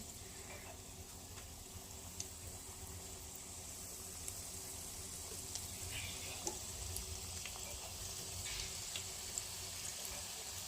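Onion samosas frying in hot oil give a faint, steady bubbling sizzle with scattered small pops. No voices are heard.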